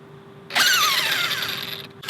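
An Arrma Kraton EXB 8S basher RC car, its motor whining suddenly: a high, wavering electric whine bursts in, holds for about a second and a half, falls slightly in pitch, then cuts off before a brief second burst.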